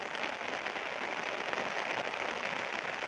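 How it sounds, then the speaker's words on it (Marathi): Heavy rain falls steadily on a farm, making an even, dense hiss that stays constant throughout at moderate volume, with no talking over it. "भाऊ पाऊस चालू आहे इकडे खूप"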